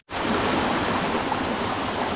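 Buderim Falls roars in a broad, steady rush of falling water, loud and close, starting abruptly and holding an unbroken wash with no voices.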